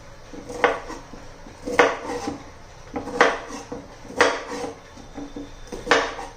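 A knife slicing through fresh bitter gourds (karela) on a board, producing six evenly spaced, crisp cutting knocks at close range, each a short sharp chop against the hard surface with quiet pauses between.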